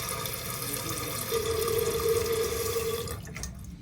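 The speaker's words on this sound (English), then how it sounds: "we can watch the water flow up and we don't have to sit there and let those galvanized lines fill up again" Water rushes steadily as a toilet tank refills through a newly installed fill valve on old galvanized supply lines in a 1920s house with low pressure, a continuous close hiss and trickle that cuts off abruptly near the end.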